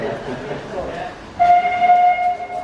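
Steam train standing at a West Somerset Railway station platform during a forties weekend event. Background chatter and bustle give way to a loud, sustained whistle that starts partway through and holds steady to the end.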